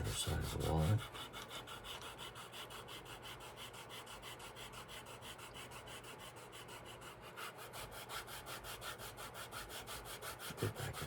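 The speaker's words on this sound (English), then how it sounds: "So we're going to go ahead and give it a little sand here. Give it a little 220 sand here." 220-grit sandpaper rubs back and forth across the edge of a leather bifold wallet in quick, even, rhythmic strokes, faint and close with no talk.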